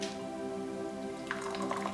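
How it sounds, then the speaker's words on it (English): Ayurvedic tea made with jaggery is poured through a sieve into a cup, giving a soft trickle with scattered drips over a steady low hum, growing more splashy toward the end. "with my sieve, I'm going to pour in the tea"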